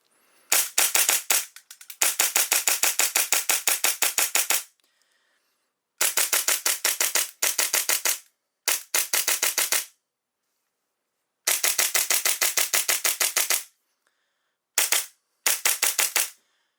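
A Hi-Capa airsoft pistol on HPA with a short stroke kit fires in loud, sharp rapid bursts of snapping shots, several strings separated by short silent pauses, with no talking.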